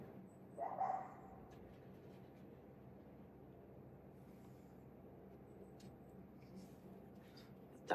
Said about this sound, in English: the local dog is barking